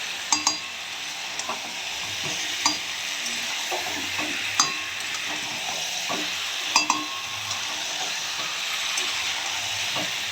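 Yogurt-marinated mutton being stir-fried into kosha in a pan gives a steady broad sizzle, punctuated by occasional sharp scraping and clinking strokes of a spatula as the meat is turned.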